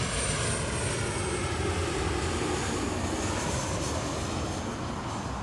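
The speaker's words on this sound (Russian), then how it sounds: "здесь можно остановиться и посмотреть, как красиво садятся и взлетают самолеты" Airplane engine roar near an airport runway on Langkawi island in Malaysia, loud and steady throughout with dense broadband noise and no speech.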